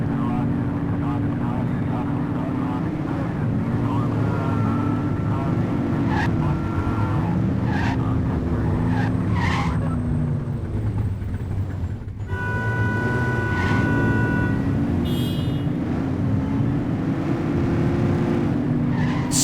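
Cars speed through city streets in the police game The Precinct, with engine drones, tire skids and passing traffic layered under steady ambient noise throughout, sirens or whines rising briefly in the middle.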